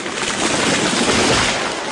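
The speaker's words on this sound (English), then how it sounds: "That was the sound of a tree falling." A tree falling as a sound effect: a loud, dense crashing rush of broadband noise, like branches and leaves tearing through and hitting the ground, sustained throughout with no voices.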